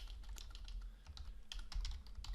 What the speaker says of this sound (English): I could actually type in like finish